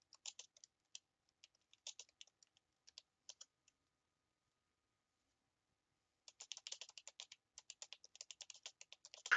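Keystrokes on a computer keyboard come in short bursts of light clicks with pauses between them, then a denser run of typing near the end. The clicking is fairly faint and close, and nobody speaks.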